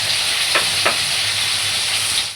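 Salted tomatoes frying in a pan for a stuffed bitter gourd dish: a steady, loud, close sizzle hisses throughout, broken by two brief scraping stirs early on.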